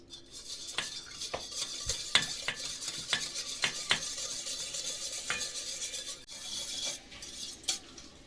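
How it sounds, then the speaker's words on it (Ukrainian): A spoon stirs fresh pressed yeast into milk in a bowl for Christmas stollen dough, with repeated close, bright clinks and scrapes against the bowl in an irregular rhythm, alone with no voices. "Тепер нам треба дрожжі розчинити в молоці."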